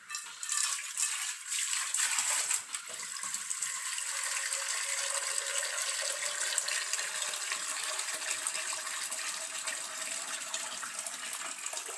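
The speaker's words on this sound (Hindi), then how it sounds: "अब इसको एक और पानी में धोते हैं।" Turmeric roots being washed by hand in a container of water, continuous sloshing and rattling as the roots are rubbed and stirred, steady and close with no talking.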